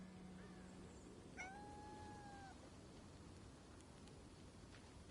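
A cat meows once in the video game Crimson Desert, a clear drawn-out call standing alone over a soft, steady rain-like hiss, with no talk.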